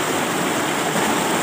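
Water gushes steadily from a pipe at a hillside farm field, a loud, continuous rushing roar heard up close with no break.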